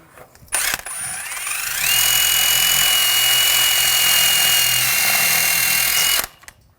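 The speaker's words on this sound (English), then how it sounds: "Now I'm just going to take a wire brush, just clean up some of the rust and debris in this area." A powered wire brush scours rust and debris off the rear wheel bearing area of a 2007-2013 BMW 328i. After a short burst it winds up to a loud, steady high whine for about four seconds, then stops abruptly.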